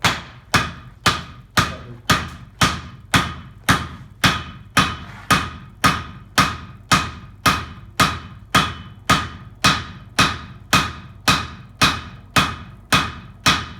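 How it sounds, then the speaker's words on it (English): Blacksmith forging leaf spring steel with a wide-edged cross-peen hammer, striking about twenty ringing blows at a steady, even rhythm, each sharp metallic hit close and loud with a brief decay, no talk. "Now we're going to keep spreading this using a cross-peen hammer, a wide-edged cross-peen hammer."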